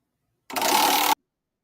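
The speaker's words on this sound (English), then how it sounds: "That was our wheel." A prize wheel at an SPCA Tampa Bay animal podcast gives one brief, dense whirring rattle of clicks lasting under a second, close and alone, with silence before and after.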